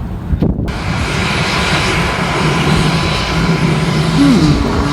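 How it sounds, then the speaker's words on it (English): A steady, loud airplane engine roar holds without a break in Galveston, Texas, close by and unchanging, with a faint tonal whine rising near the end. "Here's the plane I'll be flying in today."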